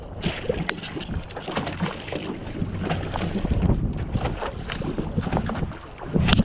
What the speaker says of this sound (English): Start the boat up.